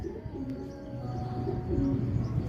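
Racing pigeons coo softly and continuously at a derby loft, low throaty calls overlapping near the listener with no talk.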